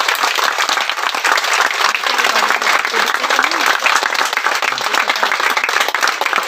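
A large audience applauds a performance with loud, dense, continuous clapping that holds steady without letup throughout.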